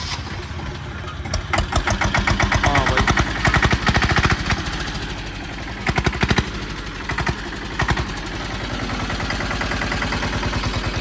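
A cut-down Swaraj single-cylinder tractor engine thumps and chugs close by in a loud, rhythmic beat, revving in bursts, with a brief spoken remark over it.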